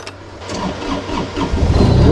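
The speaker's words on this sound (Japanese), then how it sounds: "一回エンジン切ってくれ" An engine runs at close range during stump digging for a garage build, a steady mid-pitched mechanical rumble that swells a little louder toward the end, with no talk over it.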